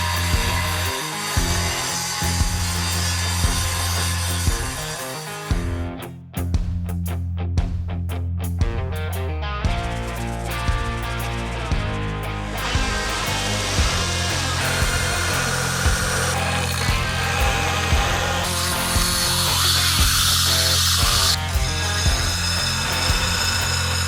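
A forged steel cleaver being ground down in a grinding room, a loud continuous motor whine with harsh grinding and shifting pitch as the blade is worked, briefly cutting out then resuming for a long stretch.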